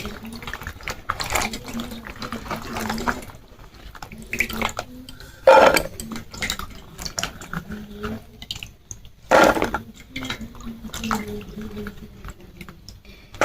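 Vegetables, including a gourd, are rinsed under running tap water in a kitchen sink, with splashing and trickling that swells into two louder gushes, faintly mixed with background noise.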